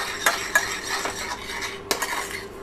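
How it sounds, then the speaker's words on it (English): A spoon stirring fresh herbs through warm succotash in a pan, with a few sharp metallic clinks and soft scraping, close and fairly quiet. "Just going to pop our herbs in there and mix it through."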